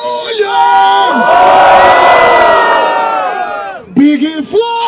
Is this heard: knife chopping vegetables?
no